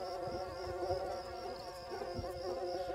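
A cartoon swarm of mosquitoes buzzes in a steady, high whine, a thin sustained drone that hovers at moderate loudness without pause.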